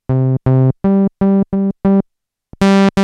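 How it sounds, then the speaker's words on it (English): A buzzy synth bass, an octave-doubled saw wave from a Yamaha MU15 sound module, plays six short, evenly spaced staccato notes, pauses briefly, then sounds one longer, brighter note. "Now hold the XG button and move one patch to the right for the synth bass 1 sound."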